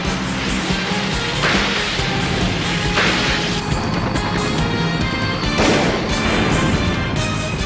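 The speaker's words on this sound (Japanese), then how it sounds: "100トンの鉄鋼船が爆破炎上する。" Explosion of a 100-ton steel ship staged for a Japanese TV police drama, a dense, loud roar of blasts and crashing with repeated heavy booms over a continuous rumbling wash.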